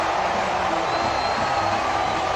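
A large cricket crowd roars steadily after a run-out in a super over, a dense sustained cheer with no clear breaks.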